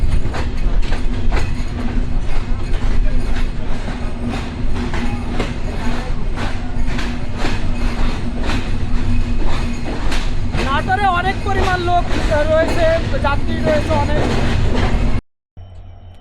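Train locomotive at Natore railway station, its engine rumbling steadily with rhythmic clacking under a busy crowd of passengers, with speech over it throughout and a sudden cutoff near the end.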